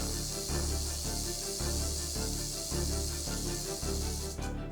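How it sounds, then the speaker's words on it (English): Continuous dry buzzing hiss of a rattlesnake rattle on Fort Mountain, steady and close, over a low pulsing background rumble. "that's a rattlesnake rattling at me right now"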